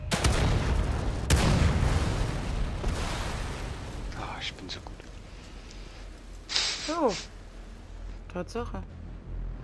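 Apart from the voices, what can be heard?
gunshots at barrels exploding in video game The Evil Within 2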